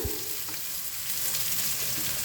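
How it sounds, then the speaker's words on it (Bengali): Gobindobhog rice tossed into hot ghee with cashews and raisins over a medium flame, giving a steady close sizzle with soft stirring scrapes throughout, no voices. "ফ্লেমটাকে মিডিয়ামে রেখে সব কিছুর সাথে চালটাকে মিশিয়ে একটু হালকা করে ভাজা ভাজা করে নেব"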